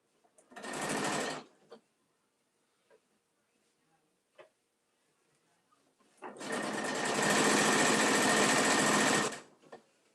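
A sewing machine top stitches a tote bag in two runs: a short burst of steady whirring, then a longer, loud continuous stitching run after a quiet pause with faint clicks.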